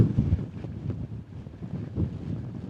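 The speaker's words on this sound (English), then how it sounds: "I don't think I should be hanging around up here for too long because it is very windy" Strong wind buffets the microphone on a hilltop at Brean Down, in heavy, uneven gusts, a low roaring rumble with no voices.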